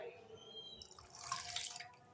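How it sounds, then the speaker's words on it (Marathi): Water is poured onto crushed fenugreek stalks, a soft splashing and trickling that builds and grows louder toward the end, close and fairly quiet with no talking. "आपण याच्यात पाणी टाकून घेऊ."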